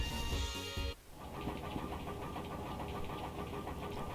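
Airship engines laboring near a volcano in Final Fantasy IX, a steady mechanical rumble and chugging drone that shifts abruptly from a buzzing tonal layer into a continuous throbbing hum.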